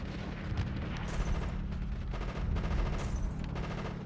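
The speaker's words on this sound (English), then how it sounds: "Okay, I have to shoot the locks" Gunfire in the video game Conker's Bad Fur Day as shots are aimed at locks: a dense, continuous barrage of booming, rumbling blasts with heavy low end, steady and loud throughout, with no clear gaps between shots.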